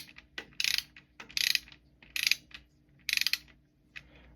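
Bolts on a Triumph Spitfire's lower half are snugged by hand with a ratchet before torquing, giving several short bursts of quick clicking separated by brief pauses, close and fairly quiet.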